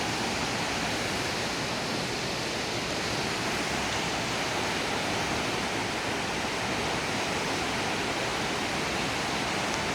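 Floodwater rushing through the Science Park River in Cabuyao, Laguna, a dense, constant roar of broadband water noise filling the whole stretch without pause, loud and even, with no voices.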